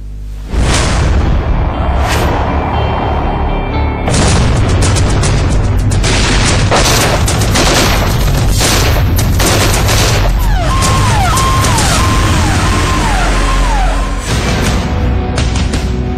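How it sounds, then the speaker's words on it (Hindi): Dense, sustained gunfire and heavy booms roll continuously along the India-Pakistan international border in Jammu, loud and overlapping with bursts and distant blasts, with a faint rising-falling siren-like tone partway through. "जम्मू के इंटरनेशनल बॉर्डर पर पाकिस्तान की तरफ से हो रही फायरिंग"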